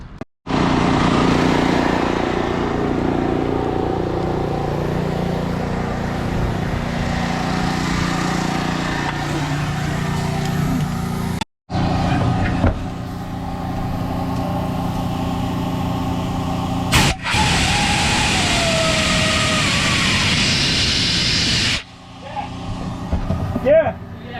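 An air compressor and generator running on location while purging the lines of a 2002 Holiday Vacationer RV that sat for three years: a loud, steady engine drone with hissing bursts and brief dropouts, and people talking over it.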